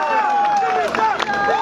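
A large outdoor crowd at a live concert at a fair applauds and cheers, dense clapping mixed with whistles and shouts under an announcer's amplified voice.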